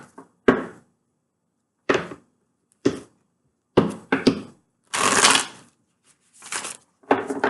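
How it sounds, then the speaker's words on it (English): Tarot cards are shuffled in a series of short, crisp riffling bursts separated by pauses, close and fairly loud, the longest flurry coming near the middle. "All right, one more shuffle, and we are there."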